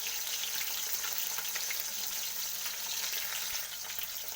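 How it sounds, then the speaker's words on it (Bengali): Masala with cauliflower, potato and grated coconut fries in a pan, a dense, even hiss of sizzling oil that stays steady and fairly quiet throughout, with only faint stirring and no voices. "তো দেখুন আমার ভালো করে কষানো হয়ে গেছে"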